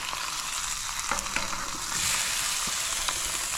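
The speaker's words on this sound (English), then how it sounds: "hear that sizzle" Red snapper sizzles skin side down on a Blackstone griddle, giving a loud, steady frying hiss with a few faint clicks and no talking.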